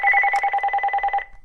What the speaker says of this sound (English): Sorry, telephone.